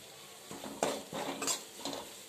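Spring onion greens stir-fried in a pan, a few close utensil scrapes and clinks against metal over a faint sizzle, in short irregular strokes, fairly quiet.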